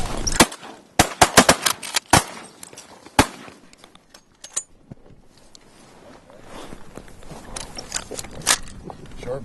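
Loud shotgun blasts from a mallard duck hunt on a North Dakota pothole wetland, several sharp shots clustered in the first few seconds, then quieter outdoor rustling with a few faint pops.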